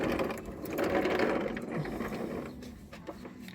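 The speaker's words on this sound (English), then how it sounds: "When I say tighten it up, I would snug it up with the ratchet." A ratchet snugs up the oil drain plug on a 2020 Hyundai Palisade during an oil change, a rapid buzzing clicking of the pawl, close and moderately loud, tapering off toward the end.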